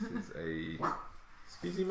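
A pet dog named Myrtle barks at a bird outside, a couple of short, loud yelps and a higher whining bark breaking through as a person talks over it.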